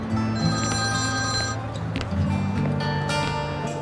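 Telephone ringing in a dramatic indoor scene, a repeating electronic ring tone sounding steadily over a busy background of music and room noise.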